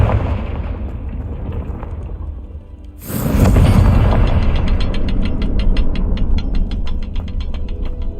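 A Confringo fire spell bursts in Hogwarts Legacy: an abrupt loud explosion about three seconds in, after a low rumbling stretch, followed by a sustained crackling roar with rapid repeating clicks.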